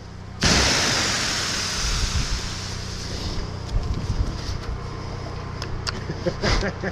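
A sudden onset of steady hissing rain, dense and close, continuing throughout with some louder spattering toward the end.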